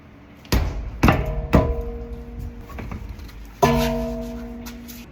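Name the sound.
hammer striking brake parts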